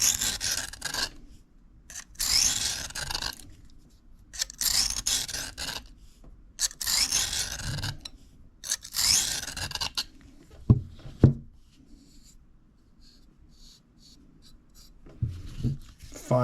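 Knife rasping back and forth on a cheap Kitanis diamond sharpening plate, a series of short gritty strokes in steady rhythm, each ending in a brief pause, followed by a few light taps.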